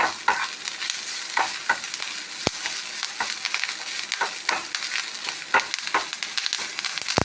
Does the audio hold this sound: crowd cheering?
no